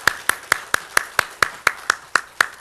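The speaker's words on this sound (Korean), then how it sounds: "하나님께 영광의 박수 드리겠습니다." Rhythmic clapping in a church congregation, about ten sharp claps spaced evenly at a steady beat, close and fairly loud, sounding more like a unison clap than scattered applause, with no voices over it.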